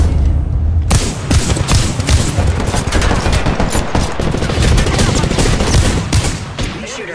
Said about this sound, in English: These shooters are shooting at me.